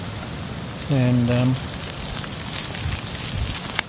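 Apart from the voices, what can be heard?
mixed snow and rain falling on camp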